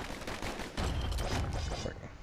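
Rapid pistol fire from the video game Bastion, dense overlapping shots over steady game music and effects, continuous and loud throughout.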